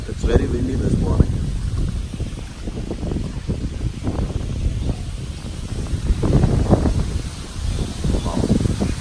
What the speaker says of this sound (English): You can hear the breeze.